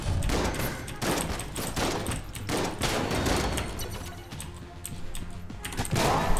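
Rapid gunfire and swarms of bullets in the video game Enter the Gungeon, a dense, continuous barrage of crackling shots and impacts that dips briefly near the end before surging again.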